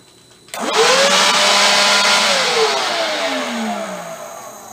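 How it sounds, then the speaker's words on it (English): A battery-operated leaf blower bought at an estate sale whirs up abruptly and runs loud and close, a steady high airy roar with a motor whine that dips slightly in pitch as it keeps blowing. "I got a leaf blower."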